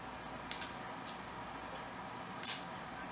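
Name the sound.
cutting up onions for meatloaf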